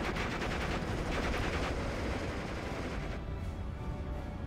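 Sustained automatic fire from a dual LMG in a World War II multiplayer shooter, a dense unbroken rattle of rapid shots with heavy booming low end, loud and continuous, thinning slightly toward the end.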